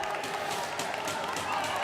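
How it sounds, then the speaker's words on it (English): Wildcat student section crowd at a Har-Ber versus Cabot high school basketball game, a steady dense roar of cheering and clapping filling the gym with no breaks. "And here comes the Wildcat crowd student section."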